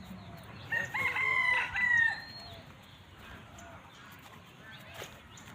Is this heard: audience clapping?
no